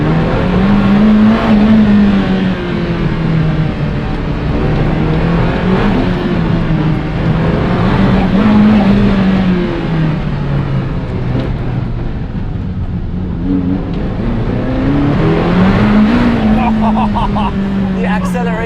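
A Ferrari F40 engine driven hard on the streets of Monaco, loud and close with a rising and falling pitch as it accelerates and shifts, while people talk over the engine throughout.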